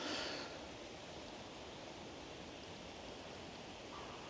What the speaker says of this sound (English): there's a stream in front of us I can hear